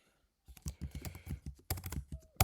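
Typing on a computer keyboard close by, with two bursts of quick, irregular key clicks separated by a short pause and ending on a louder clack, with no talking.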